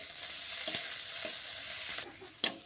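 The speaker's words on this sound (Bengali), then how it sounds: "পেঁয়াজ আর রসুনটা দেখুন ভালো করে কিন্তু ভেজে নিয়েছি" Onion and whole garlic cloves fry in mustard oil with a soft, steady sizzle, punctuated by several light clinks and scrapes of a spoon stirring the pan; no voices.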